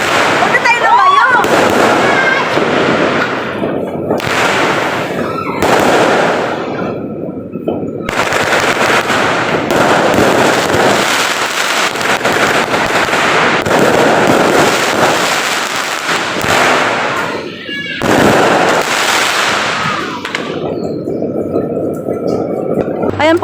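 Chinese New Year fireworks at a Gong Xi Fa Cai celebration burst loud and close in dense crackling volleys with brief gaps. People talk and exclaim underneath the barrage.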